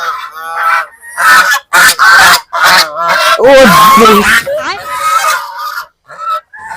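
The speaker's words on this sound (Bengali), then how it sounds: "এদিকে তো মানে হাঁস দিয়ে ভরা" Ducks and geese honk loudly on a farm in a dense run of repeated, overlapping calls, close by and with short pauses between bursts, while a voice is briefly heard.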